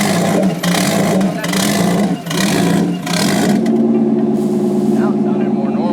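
A single-turbo Mustang engine revs hard on a dyno, loud roaring pulls rising and dipping in repeated bursts before settling into a steadier drone, with voices talking over it.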